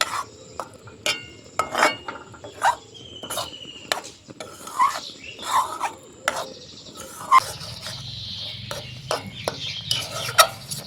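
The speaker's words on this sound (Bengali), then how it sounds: "এখন গ্যাসের ফ্লেমটাকে আমি মিডিয়ামে করে দেবো আর অনবরত এইভাবে নাড়াচাড়া করে নেব" Chhana mixture for makha sandesh is stirred over a medium flame in a pan, with repeated sharp scrapes and clacks of a spatula against the pan in an uneven rhythm over a faint sizzle, close up and without talk.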